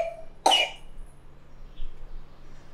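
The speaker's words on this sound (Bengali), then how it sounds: "খুব কাশি হয়ে গেছে ওর।" A young child gives a single sharp cough, then quiet room tone with faint breathing follows.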